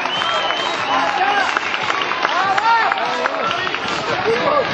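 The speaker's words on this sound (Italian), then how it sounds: "Su un forte applauso alla Sara e anche tutto gli altri." Applause and crowd noise at an outdoor greasy pole climbing contest, a steady wash of clapping with cheering and overlapping voices, loud and sustained throughout.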